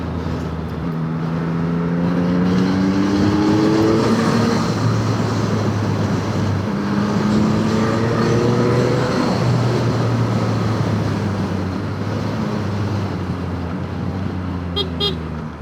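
A Yamaha MT-09 motorcycle with the Y-AMT automated gearbox riding on the road, its engine drone loud and close, the pitch stepping down in several successive drops as it downshifts, with wind rush throughout.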